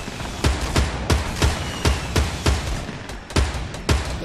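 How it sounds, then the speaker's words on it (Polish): Rocket launcher shots in Fortnite fire in a rapid irregular series of loud booming blasts, roughly nine sharp hits in four seconds, close and punchy with no talk over them. "Strzał z rakietnicy."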